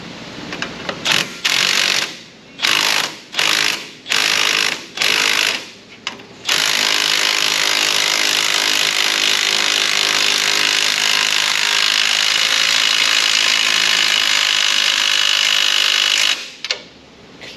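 A power tool tightens front suspension bolts on a Ford Explorer 4.6, first in several short whirring bursts, then in one long, loud, sustained run before stopping near the end.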